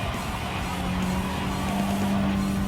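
A Honda Civic Type R Limited Edition (FK8) races through successive turns in a Gran Turismo 7 time trial, its steady, loud engine drone running throughout with hints of tire squeal, no voices.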